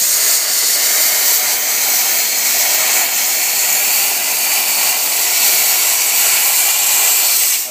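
A grinder runs continuously for several seconds, a loud steady hiss and whine as it cleans scale off a tractor loader pin for a 1370 tractor.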